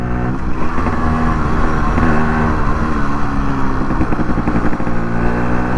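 Yamaha RX 135 two-stroke motorcycle engine running loud and close, a steady buzzing drone with rough pulsing throughout and no talk over it.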